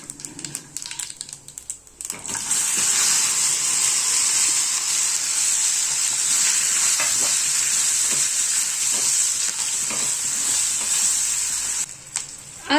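Stuffed bhokar drop into a hot tempering of cumin, asafoetida and turmeric, and a loud, bright sizzle bursts up and holds steady close by, fading briefly near the end, with no talking.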